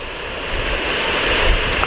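A boat crashes through waves running down a channel during extreme boating, loud rushing surf and spray mixed with heavy wind buffeting the microphone.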